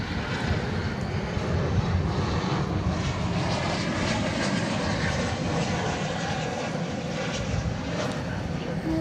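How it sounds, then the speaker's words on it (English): An American Airlines Boeing 737-800 from Colorado Springs arriving at DFW Airport on a Saturday night, a steady loud roar of jet engines passing close overhead, sustained for the whole stretch. "our next arrival here is American Flight 1170 from Colorado Springs, a 737-800"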